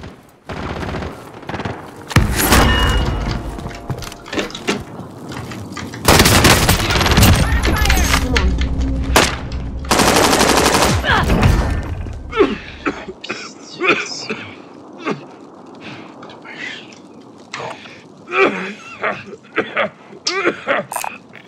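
Rapid gunfire and explosive bursts in the video game Call of Duty Warzone, loud sustained firing in several long clusters, then quieter clicks and scattered noises with coughing and voices talking.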